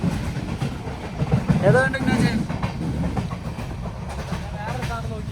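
A passenger train rolls along steadily with a continuous rumble and faint clatter, while people talk over it close by.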